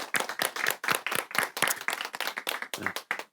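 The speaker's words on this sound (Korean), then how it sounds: "하나님께 영광의 박수를 드리겠습니다." A church congregation claps during a worship service, a steady run of sharp, fairly close hand claps in a regular rhythm with no talking.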